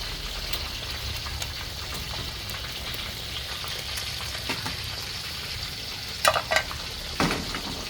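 An omelette sizzles and fries steadily in a pan, a soft continuous crackle with a few sharper spatters near the end and no talking.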